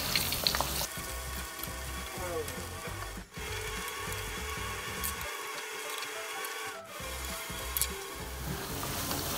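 Banana pieces deep-fry in hot oil for crispy Thai banana fritters, a dense, steady bubbling sizzle with low rumbling churn, briefly dipping twice as if the batch is stirred.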